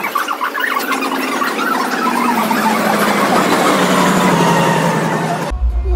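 An Indian passenger train pulling into a station, its steel wheels squealing loudly and steadily against the rails for several seconds, close by with no talk over it.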